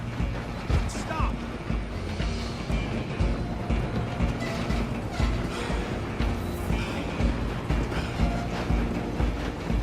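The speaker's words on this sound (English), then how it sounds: "I'm gonna ride ahead and stop the train." A train rolls along in the game Red Dead Redemption 2, a continuous rumbling mechanical clatter with rhythmic rail clicks, fairly loud and close, mixed with game noise and voices.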